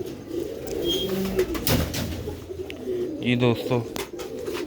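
Sialkoti Ali wale breed pigeons, including a newly paired male and female, coo softly and repeatedly in their loft, while someone talks over them throughout.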